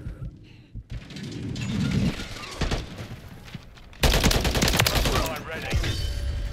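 Gunfire in an AR shooter video game, with scattered shots and crackling bursts over busy game ambience, building to a loud, dense volley near the end.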